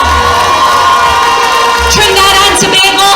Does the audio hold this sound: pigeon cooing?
no